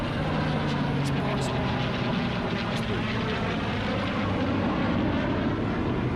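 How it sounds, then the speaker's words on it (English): A P-51 Mustang and an F-22 flying past at an air show, a steady, loud aircraft engine drone filling the air, with a crowd and voices talking underneath. "P-51 is probably flying as fast as it can"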